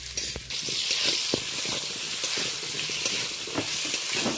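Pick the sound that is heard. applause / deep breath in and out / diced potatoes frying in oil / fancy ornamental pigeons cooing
diced potatoes frying in oil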